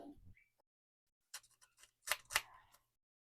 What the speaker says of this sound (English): I might actually just rough up the edge with my scissors as well.